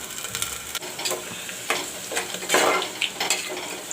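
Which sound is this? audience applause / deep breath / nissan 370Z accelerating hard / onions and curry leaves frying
onions and curry leaves frying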